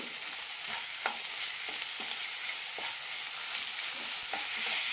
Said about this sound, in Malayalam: ഇനി ഇതിലേക്ക് ചിക്കൻ ഇടാം നന്നായി മിക്സ് ചെയ്യാം